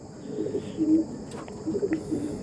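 A Ghiyapatti breed pigeon gives a few soft, low coos close by, separated by short pauses, against a quiet background with a faint steady hiss.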